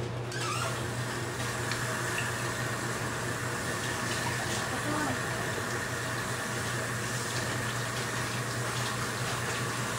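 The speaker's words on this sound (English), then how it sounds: "I'm kind of washing my hands." Water runs steadily from a tap while someone washes their hands, a continuous close rushing hiss that lasts throughout at an even level.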